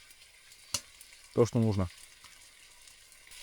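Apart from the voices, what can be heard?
steak frying on a wood stove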